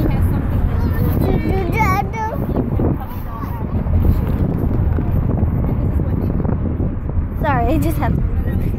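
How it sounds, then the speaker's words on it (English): Wind buffets an outdoor microphone with a constant low, rough rumble, while children and adults talk and call out over it. "It's so windy."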